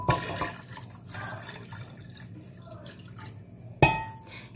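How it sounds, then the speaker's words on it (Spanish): Water poured from a container into a pitcher of lavender and lemon drink, a steady liquid pour running throughout with a brief louder splash near the end. "Por último, agregamos 1 litro de agua."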